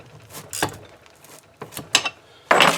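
A wrench tightening a bench vise, heard as a handful of close metallic clicks and scrapes in irregular bursts, ending in a louder grinding turn.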